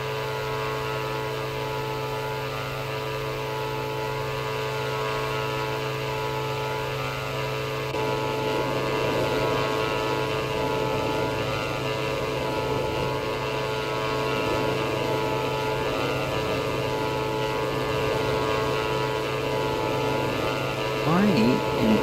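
The Aerobask Diamond DA-62 in the X-Plane 11 flight simulator, flying over New Zealand, gives a steady, droning propeller-engine hum that runs throughout. A slight rise in pitch comes partway through, and no one talks.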